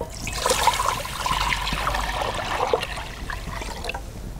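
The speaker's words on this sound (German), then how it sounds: "Wir geben unser Wasser wieder dazu." Water poured into a Dutch oven set on a rocket stove, a continuous splashing trickle with gurgles that tapers off toward the end.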